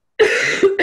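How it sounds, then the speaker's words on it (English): A single loud, close cough bursts out right after silence, followed by a second shorter cough, from an adult speaking over a video call. "I've got a cough."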